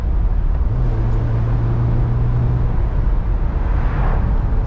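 A Mazda MX5 drives along a small country road, its engine a steady droning hum with a brief rising tonal whine in the middle and tyre and road noise underneath.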